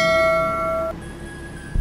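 A bright bell-like chime rings with sustained tones, then shifts to a second higher ding, clear and close with no talking.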